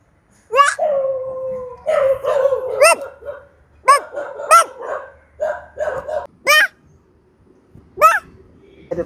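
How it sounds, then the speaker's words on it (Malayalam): Several dogs nearby bark and howl in loud, separate bursts, with long drawn-out howls between sharp barks and short pauses of quiet. "ഇപ്പൊ ഓടി വരണോ പട്ടികളെല്ലാം കൂടെ."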